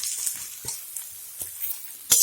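Boiled potatoes tipped into a frying pan of sizzling spices, a soft steady hiss of frying with a few light stirring scrapes and knocks, ending in a louder clatter.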